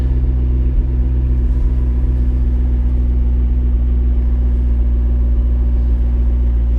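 A tuned 2012 McLaren MP4-12C with aftermarket parts runs after a cold start, giving a loud, close, steady low drone that holds even throughout with no voices.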